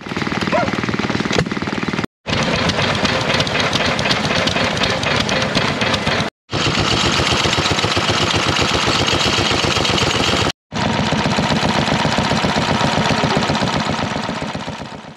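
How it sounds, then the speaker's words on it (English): Historic stationary engines chug steadily with a fast, rhythmic knocking beat, loud and close, broken by a few brief cuts. "a very large display of engines that were running, and these were historic engines"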